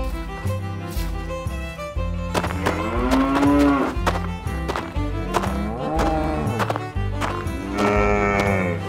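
Cows and calves on a toy farm diorama moo repeatedly in drawn-out, wavering calls, several overlapping, loud and close over a steady background.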